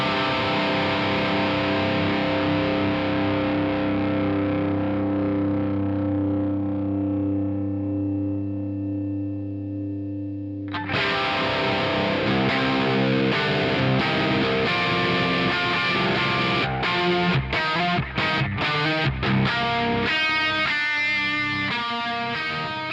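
Distorted electric guitar run through parallel short digital and longer tape-style delays into a long plate or hall reverb: a sustained chord fades out over ten seconds, then a dense, echoing riff kicks in loud with rhythmic repeats.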